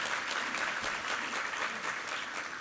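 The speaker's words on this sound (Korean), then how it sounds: "우리 하나님께 감사와 영광의 박수 올려드리겠습니다" A church congregation applauds during a Sunday worship service, a dense, sustained wash of clapping from many hands that stays fairly even from start to finish.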